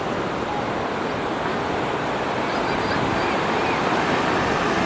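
Steady roar of ocean surf breaking on the shore at Santa Monica, California, a continuous broadband wash of waves with no voices, fairly loud and close.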